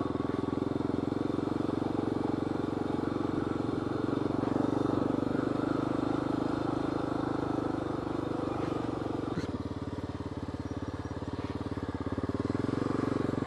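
Off-road motorcycles ridden along a rough trail, a continuous close engine drone with shifting revs, a drop in tone partway through, and faint clatter over the terrain.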